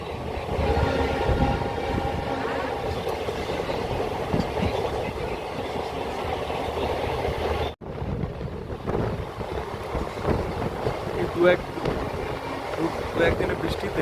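A train runs along the rail track on the Belakoba line, a continuous rumbling roar with a brief dropout partway through and faint voices mixed in.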